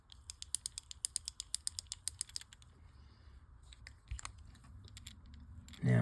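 The mechanism of a Johnson Century 100B spincast fishing reel, worked on the bench during servicing, gives a rapid run of a dozen-plus crisp, evenly spaced ratcheting clicks, then a few softer scattered clicks and handling noises.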